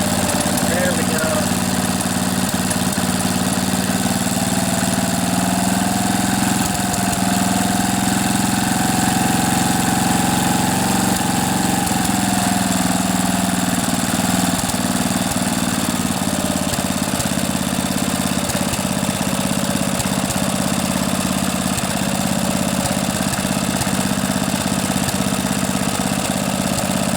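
A rebuilt 8 HP Briggs and Stratton small engine runs at a steady idle after its carburetor overhaul, a loud, even chugging drone that holds for the whole stretch with slight swells in pitch, and a voice is heard over it.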